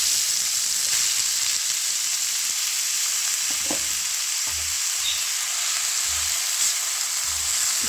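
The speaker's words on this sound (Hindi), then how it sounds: "घी गरम हो गया, अब हम इसमें डाल देंगे चॉप की हुई है 3 बड़े साइज़ के प्याज।" Three large chopped onions frying in hot ghee give off a steady, close sizzling hiss, broken by soft low thumps and scrapes of stirring.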